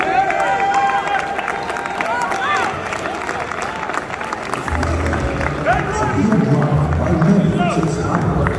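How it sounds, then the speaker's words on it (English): Audience applause fills an awards hall at the AFRIMA ceremony as Koffi Olomide is honoured with a Legend Award, a dense, steady wash of clapping and crowd noise with music playing over it. "Please give him a round of applause."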